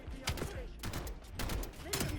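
Rapid gunfire in a Call of Duty video game, dense automatic bursts crackling close and loud in two clusters, with a voice faintly mixed underneath.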